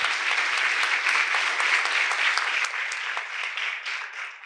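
A crowd claps steadily and loudly, the applause holding throughout before easing slightly toward the end.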